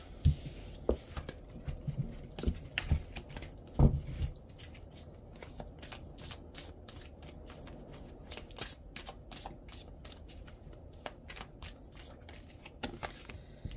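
Tarot cards are shuffled by hand in repeated quick riffles and flicks, quiet and close, with soft handling noises between bursts and no talking.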